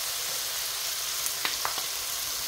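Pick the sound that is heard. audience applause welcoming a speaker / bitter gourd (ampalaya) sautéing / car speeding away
bitter gourd (ampalaya) sautéing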